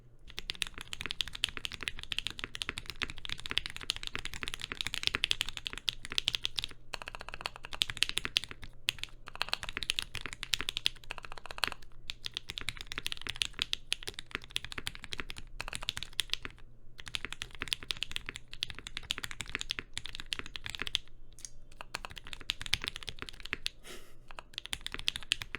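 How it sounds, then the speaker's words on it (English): Steady rapid typing on a MODE Eighty TKL custom mechanical keyboard, continuous clicks and clacks with brief pauses, close and fairly muted, running alone for about twenty-five seconds. "let me do another typing test"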